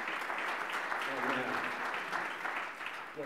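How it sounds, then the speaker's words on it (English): An audience at a talk on digital transformation claps in sustained, even applause from many hands, with a voice speaking over it as the clapping tapers slightly near the end. "let's have another round of applause for Mary"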